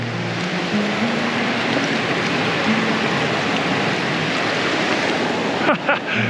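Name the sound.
river flowing beside a rickety wooden bridge in Nepal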